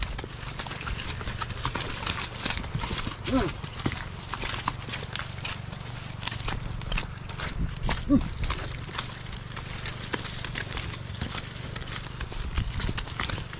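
Horse hooves clip-clop in a steady walking rhythm on a hard surface, close by, with a low rumble of background noise throughout.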